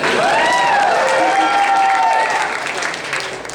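A comedy club crowd claps and cheers for a comedian, loud and close, with a voice speaking over the start before the applause thins out.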